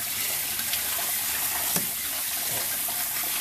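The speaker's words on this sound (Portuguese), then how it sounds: "vamos abrir a torneira e vamos lavar esse arroz, literalmente, lavar o arroz" Kitchen tap water runs steadily into a sink as rice is rinsed under it, a close, continuous broadband hiss with a few faint clicks of grains and hands in the stream.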